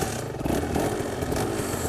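An Aprilia RS 125 two-stroke motorcycle pulling away, its engine a steady, buzzy drone heard close up with wind rush over the microphone.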